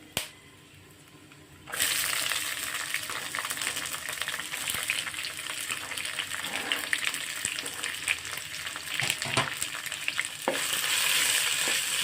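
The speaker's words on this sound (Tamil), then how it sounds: "சின்ன வெங்காயம் நல்லா வதங்கட்டும்" Small shallots sautéing in oil for a mushroom fry start after a short quiet moment, then give a loud, steady, dense sizzle with occasional stirring scrapes throughout.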